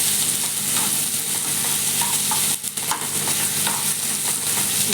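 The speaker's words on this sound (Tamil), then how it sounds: "இஞ்சி பூண்டு பேஸ்ட்டு இது பச்சை வாசனை போகிற வரைக்கும் எண்ணெயில் ஒரு 2 நிமிஷம் நல்லா வதக்கி விட்டுட்டு" Ginger garlic paste sautés in hot oil for an egg gravy, giving a steady close sizzle with scraping stirs and a brief dip partway through, no voices.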